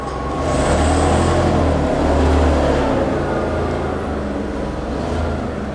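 Electric motor of a FAN 3.3 780 separator spun during guide rail alignment, giving a steady loud low hum with a sustained drone that swells and eases, continuous throughout with no talk.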